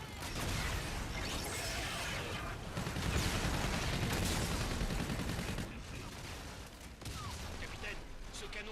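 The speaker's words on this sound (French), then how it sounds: "Les jacals ouvrent le feu." Sustained heavy gunfire in the Call of Duty Infinite Warfare campaign, dense overlapping bursts and booms rolling continuously throughout, with game noise underneath.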